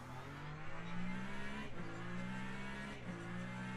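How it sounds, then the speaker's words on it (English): Race cars in the Le Mans Ultimate sim, hypercars pulling out of the pit lane at Monza, with engines droning steadily and loud, rising and falling slightly as they accelerate away. "And the hypercars now can get released from pit"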